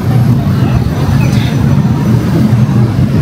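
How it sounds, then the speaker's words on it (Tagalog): Busy road traffic in Bangkok near the World Trade Center and Big C, a steady close rumble of cars, buses and trucks filling the whole stretch with no breaks, under faint voices. "Ayan yung traffic."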